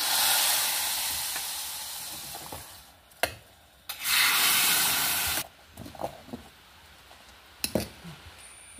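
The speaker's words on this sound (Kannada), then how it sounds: "ನೋಡಿ, ಒಗ್ಗರಣೆ ಹಾಕೊಂಡು ಬಿಡುವ ಇದಕ್ಕೆ." Tempering for garlic rasam sizzles in a pan, loud frying hiss in long bursts broken by short clinks of a spoon against the metal and quieter pauses between.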